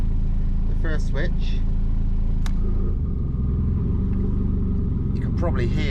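A Volvo 940 Turbo on a standard LH4.2 engine idles with its switchable anti-lag engaged, a steady low rumble with uneven shifts, while someone talks close by over it.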